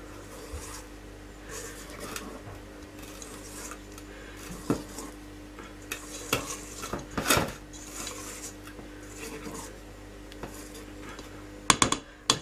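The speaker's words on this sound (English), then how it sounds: "So we're not stirring it, we're just lightly folding it." Pavlova meringue mixture being gently folded in a large bowl, giving soft intermittent scraping and tapping strokes at close range, irregular and fairly quiet with a few sharper knocks near the end.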